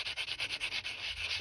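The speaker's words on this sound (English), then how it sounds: "we're going to take one of the Ultimate Modeling Products white sanders" Coarse white sanding stick rubbed in circular strokes over the rubber tyres of a T-55A scale model's road wheels, a quick, even scratching rhythm of about six strokes per second, close and steady with no talk.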